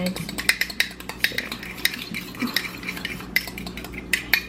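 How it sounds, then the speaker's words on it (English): Egg and milk whisked in a bowl for scrambled eggs, with fast rhythmic clinking taps of the whisk against the bowl over a low kitchen hum and faint sizzling in the background. "I'm just whisking it so I can make the scrambled eggs"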